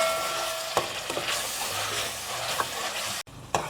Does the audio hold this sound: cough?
no